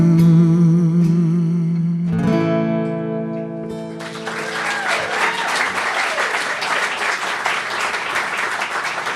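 Live audience applause after an acoustic guitar song, rising as the last ringing chords fade into dense, steady clapping from a small crowd.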